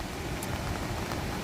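Heavy monsoon rain pours over the Mahabaleshwar ghat and Poladpur area, a dense, steady hiss with no break and no voices.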